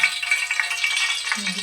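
Oil sizzles in a kadai on the stove while cabbage manchurian is being cooked, a steady, bright hissing crackle, close and continuous, with a brief low sound near the end.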